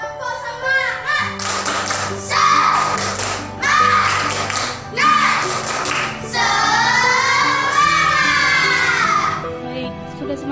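Schoolchildren in an Indonesian classroom perform a rhythmic 'tepuk semangat' spirit clap, loud patterned clapping bursts mixed with the class chanting and shouting together.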